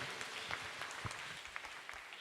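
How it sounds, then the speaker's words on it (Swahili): A church congregation at a Kikuyu service applauding together, a brief dense patter of clapping heard at moderate distance. "Tupigie Bwana makofi tunapoketi."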